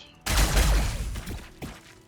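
Las cannons firing in the Warhammer 40,000 video game during an Astra Militarum versus T'au battle, a sudden loud crackling burst of energy shots that decays, followed by a second sharper blast.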